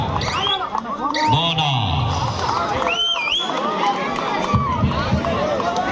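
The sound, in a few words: kabaddi fans applauding and whistling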